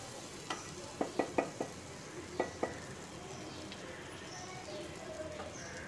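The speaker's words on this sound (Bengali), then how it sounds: "মশলাটা খুব ভালো করে কষিয়ে নেব" Spice masala with a spoonful of amchur powder being stirred and fried for a cabbage dish, a quiet low sizzle under a few short, sharp spoon scrapes and knocks against the pan.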